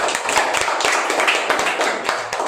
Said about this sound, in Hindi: क्यों ना हम परमेश्वर के लिए जोरदार तालियां दें।